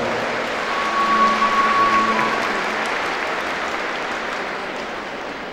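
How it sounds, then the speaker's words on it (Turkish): Steady applause from an indoor audience welcoming a Sufi mysticism speaker at a Şeb-i Arus gathering in İzmit, a dense, even wash of clapping that holds throughout and eases slightly toward the end. "Alkışlarınız."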